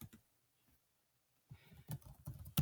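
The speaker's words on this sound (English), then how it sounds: "We'll get ready to type." Short bursts of typing on a computer keyboard, quiet close clicks after a brief pause, no talking.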